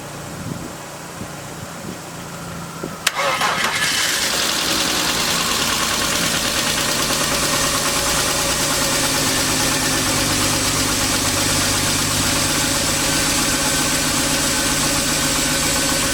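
BMW 328i E36 engine cranks briefly, catches with a sharp start around three seconds in, then settles into a steady, loud, close idle with a slightly rough mechanical tick that continues to the end.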